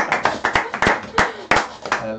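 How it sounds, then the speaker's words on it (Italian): Brief applause from a small group during an interview with a musician, with a few separate clap bursts mixed with voices talking over them. "Qui ci vuole l'applauso"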